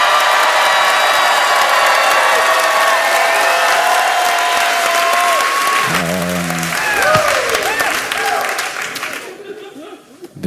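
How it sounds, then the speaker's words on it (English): A comedy club audience in Milwaukee cheers and applauds for headliner Josh Johnson. The loud, dense, sustained clapping and whooping continues for about nine seconds, then thins out near the end. "make some noise for your headliner, Josh Johnson."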